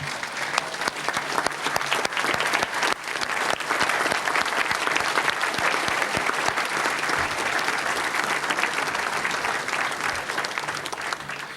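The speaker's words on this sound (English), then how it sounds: "receive a sincere round of applause" Hearty, sustained applause from a banquet audience honoring former enshrinees at a sports hall of fame dinner, a dense even roar of many hands clapping loudly for over ten seconds.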